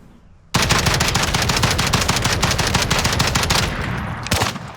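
An assault rifle fires in sustained full-auto bursts in Call of Duty Warzone, a loud rapid stream of close shots, briefly pausing near the end before another short burst.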